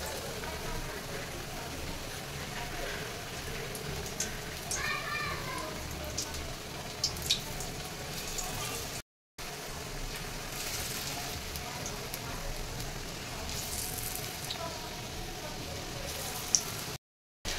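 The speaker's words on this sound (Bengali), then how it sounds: "আর গরম তেলে এক একটা করে নিয়ে আমি ছেড়ে দেবো।" Besan-coated pieces of bottle gourd fry in hot oil, giving a continuous rain-like sizzle and crackle that holds steady for the whole stretch, with two short silent breaks.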